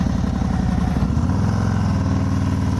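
A Harley-Davidson Road King fitted with an S&S muffler idles with a deep, loud, steady lumpy rumble, close and continuous, with no talk.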